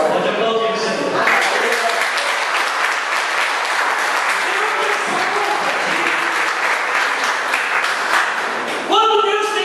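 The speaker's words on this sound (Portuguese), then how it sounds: "Pode aplaudir o Senhor." A church congregation applauds during a Sunday service, loud sustained clapping filling the room, with a voice and instrumental tones heard briefly at the start and again as it ends.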